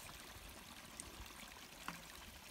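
Cold running stream water in a Patagonia backcountry setting in Aysén, Chile, trickling and pouring into a cup, a soft continuous splashing close by with a faint clink.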